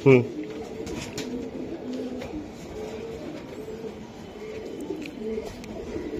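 A racing pigeon hen gives soft, low cooing in the background while someone speaks nearby.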